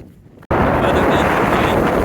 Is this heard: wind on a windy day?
yes